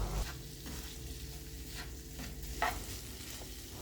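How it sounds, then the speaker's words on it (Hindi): Green beans tossed with a spiced chaat mixture are lightly fried in a pan, giving a close, steady soft sizzle with stirring scrapes and one sharper clink of the utensil near the middle. "दोनों चीज़ों को अब मैं इकट्ठा मिक्स करके तो लाइट सा फ्राई कर रही हूँ"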